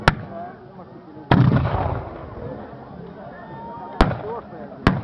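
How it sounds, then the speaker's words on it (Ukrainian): Several loud booming cannon shots in a Battle of Berestechko reenactment, sharp and separated by a few seconds, each followed by a rumbling echo, with faint voices in between. "Б'ють гармати, сторони обмінюються рушничними пострілами і залпами."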